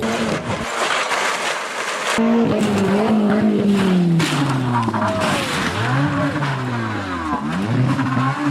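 A K20-swapped Suzuki Swift driven hard on a race track: a loud, continuous engine howl that rises and falls with shifts, with tire squeal layered over it throughout and no talking.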